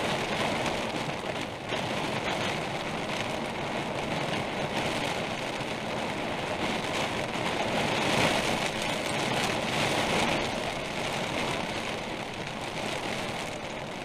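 Rain falls steadily on an RV parked in Michigan's Upper Peninsula in autumn, a dense, even hiss of drops drumming on the roof that holds constant and fairly loud throughout.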